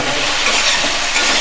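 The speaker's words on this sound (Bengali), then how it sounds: "নুন আর হলদি দিয়ে আলুগুলো ভাজলে আলুগুলো কালারও ভালো হবে" Potatoes fry with salt and turmeric in a hot pan for a lentil and potato dish, giving a loud, continuous sizzle with the rustle of stirring and no speech.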